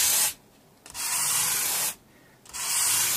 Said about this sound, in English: this kind of destroys the sandpaper pretty quickly actually, but it does the job